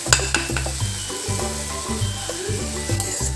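Washed masoor lentils drop into a pan of frying potatoes, setting off a steady close sizzle with scraping stir strokes and light clatter that repeat about every second.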